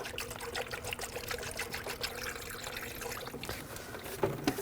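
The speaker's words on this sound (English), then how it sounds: "And I'll just use the funnel. You want to use the appropriate type of coolant, 50-50 mix, and fill up the reservoir." A 50-50 coolant mix pours steadily through a funnel into the coolant reservoir of a 2006–2009 Audi S4, a continuous close trickle with a brief clatter near the end.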